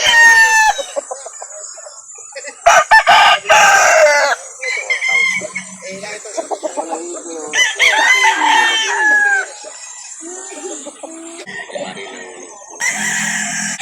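Chickens clucking and a rooster crowing loudly nearby, with overlapping calls throughout and bursts of crowing.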